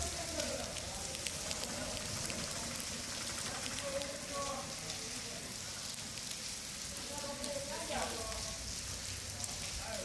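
Steady heavy rain falls in Talaja in a constant hiss and patter on surfaces, with faint indistinct voices in the background.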